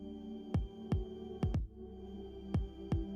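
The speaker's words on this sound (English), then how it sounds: "share something as personal as your own heartbeat" Heartbeat sound shared from a smartwatch: six soft, deep thumps heard alone over a low steady hum, mostly evenly spaced with one quick double beat in the middle.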